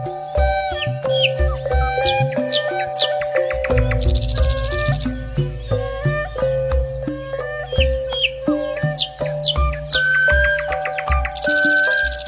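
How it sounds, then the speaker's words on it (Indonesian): Outdoor birds in West Java chirp and call almost nonstop, a busy mix of short tweets and clucking notes layered over each other at moderate loudness. "suara burung"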